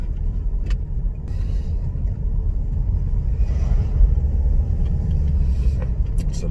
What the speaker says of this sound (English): It's a massive Range Rover.